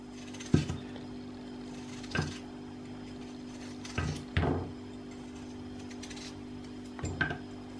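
A knife slices raw potatoes into thin slices about 4 mm thick on a board, with five or six crisp, separate cuts spaced a second or two apart over a steady low hum.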